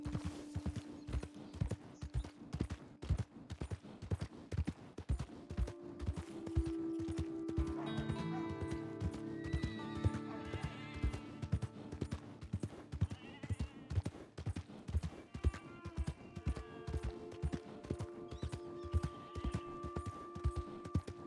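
Horse hooves clip-clop in a steady, even rhythm in a video game, accompanied by soft background music and tones.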